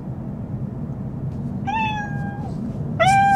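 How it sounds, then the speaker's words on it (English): A Mercedes-Benz CLE coupé's voice assistant plays a recorded cat meow through the car speakers, two drawn-out meows over a low cabin hum, the second starting just before the end. "How does a cat sound?"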